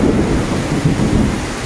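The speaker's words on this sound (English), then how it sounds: "this is literally 10 minutes, that's all, raining" Heavy tropical rainstorm in Manila during typhoon weather, a dense, steady roar of downpour with deep rolling thunder rumbling underneath, loud and continuous with no voices.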